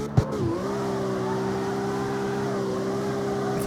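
A Toyota Supra engine in CarX Street, set up on sports tires, drones at a steady high idle-like hum after a short sharp knock. The tone dips briefly, then holds level and loud.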